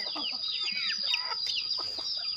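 Hens clucking and murmuring inside a small chicken coop, several overlapping close calls and squawks over a faint steady background hum.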